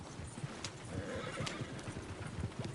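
A horse neighs and whinnies with hooves clip-clopping in Red Dead, a busy, fairly close sequence lasting a few seconds.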